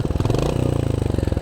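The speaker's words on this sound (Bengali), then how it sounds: "এখন পর্যন্ত এক্সস্টের সাউন্ডটা খুবই সুন্দর আছে" A Royal Enfield Hunter motorcycle idles in neutral with a steady, even exhaust thump, close and loud, holding one rhythm throughout with no talk over it.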